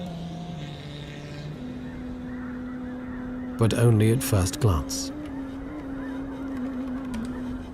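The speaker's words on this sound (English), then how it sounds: "Migratory birds from the Arctic have arrived to spend the winter here." Migratory birds from the Arctic give a short burst of loud, overlapping honks in the middle, set against a steady engine-like drone, while someone narrates beforehand.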